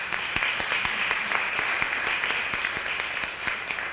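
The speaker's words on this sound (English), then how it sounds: "Let's give them a small round of applause." A small audience claps for panelists at a conference on the cradle-to-prison pipeline, a steady patter of hand claps heard at moderate distance for a few seconds.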